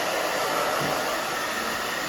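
A hair dryer blows while drying a woman's hair for a short A-line haircut, a loud, steady close whoosh with no break.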